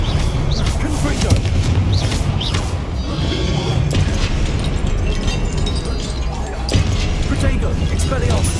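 Blasting-spell explosions from the Confringo spell in the Hogwarts Legacy video game, loud booming bursts over a dense, constant roar of combat, with a voice shouting spell names on top.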